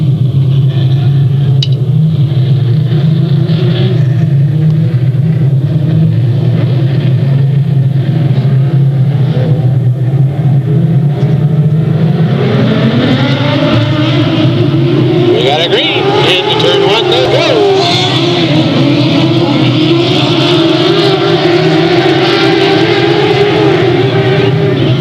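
Race cars roar around the oval at Delta Speedway on a restart, a loud, dense engine drone that swells and rises in pitch as the field accelerates, with a commentator talking over it throughout.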